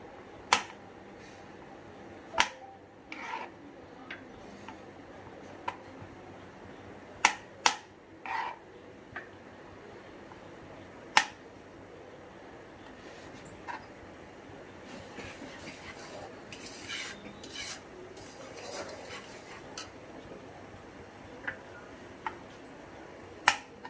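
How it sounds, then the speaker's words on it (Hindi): Roasted almonds and cashews being chopped with a knife, heard as sparse, sharp clicks and taps at irregular intervals over quiet kitchen background. "हम जो हमने आलमंड्स और कैश्यू रोस्ट किए थे, हम थोड़ा सा उनको चॉप कर लेंगे"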